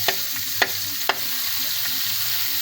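Garlic and onion sautéing in Star margarine, a steady close sizzle broken by a few sharp spoon scrapes against the pan, no voices.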